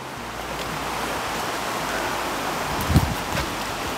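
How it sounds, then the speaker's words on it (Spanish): Rushing water of a mountain river in rural El Salvador, a steady broadband wash close by with one brief louder splash near the end and no talk. "Y aquí está el río, miren qué bonito está el río."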